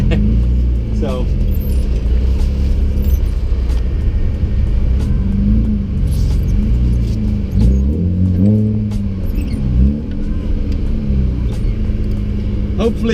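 A car with a new exhaust rumbles and revs nearby, the deep engine note rising and falling through several throttle blips, with a voice talking over it.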